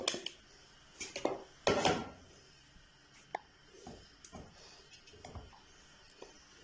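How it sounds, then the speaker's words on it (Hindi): Grated carrots tumble into a cooking pot for carrot halwa, giving a few soft plops and scraping thuds near the mic, separated by quiet gaps, with no talking. "यहाँ सबसे पहले हम जो है वो बेचके में गाजरें डालेंगे।"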